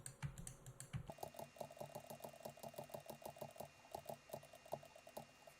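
Quick run of computer keyboard key presses in Blender, used to delete tracking points one at a time in a camera motion tracking session; dense, steady clicking that stays moderately faint and carries on throughout with no speech.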